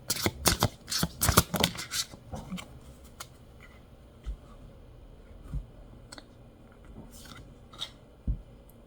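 Tarot cards are shuffled in a quick run of crisp riffling flutters up close, then single cards are slid and drawn with soft scattered taps and flicks.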